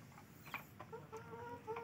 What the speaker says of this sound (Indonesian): Kasih makan ayam, lihat pertumbuhannya ya.